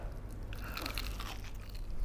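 Someone bites into crunchy, juicy fried chicken, giving a close, steady crackling crunch that runs through the whole moment without any talk.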